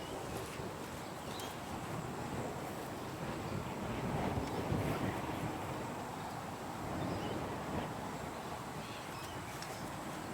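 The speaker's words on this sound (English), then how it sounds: "Sorry, it's very windy" Outdoor wind gusts buffet the microphone on a golf practice range, a low, broadband rumble with swelling and fading surges, fairly faint and continuous with no talking.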